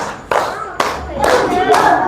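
Children in a classroom clapping in unison in a counted routine, several distinct loud group claps spaced about half a second apart, close by, with young voices chanting between them.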